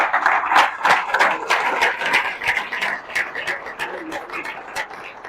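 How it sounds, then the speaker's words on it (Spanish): A church congregation during a sermon claps and cheers in scattered, uneven bursts, moderately loud with some voices mixed into the clapping. "Claro que sí, aplauda."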